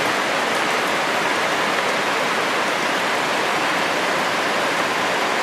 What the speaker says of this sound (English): There's the rain coming off the roof of the house. Hitting so hard it's bouncing up in the air